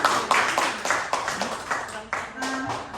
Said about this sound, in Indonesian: Tepuk tangan dulu untuk Bu Sagong.